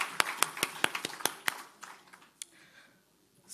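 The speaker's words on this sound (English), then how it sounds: "just give the conference a round of applause" Scattered audience clapping at a government audit committees' conference, a handful of sharp distinct claps in a loose rhythm that thin out and fade to near silence within a few seconds.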